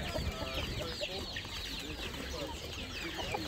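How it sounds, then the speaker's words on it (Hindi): Desi chickens clucking and calling at a market, dense overlapping bird sounds in a busy, noisy setting with voices chattering underneath. "ये देसी मुर्गी हैं।"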